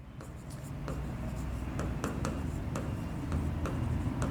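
Pen writing a math solution on paper, soft close scratching with regular tapping strokes, quiet and unaccompanied by talk.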